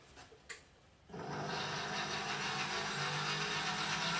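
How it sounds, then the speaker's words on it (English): Electric whisk for macaron syrup, set to medium or medium-fast, starts up after a few soft clicks and then runs as a steady, close whirring drone to the end. "So I'm going to start my whisk,"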